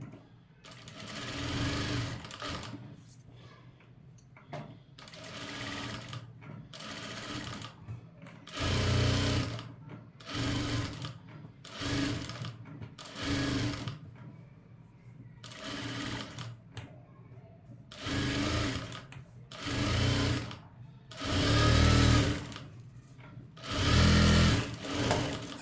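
A sewing machine runs in repeated bursts of rapid stitching as a sleeve is joined to the main fabric of a cutwork blouse. Short pauses separate the runs, and the whirring is loud and close.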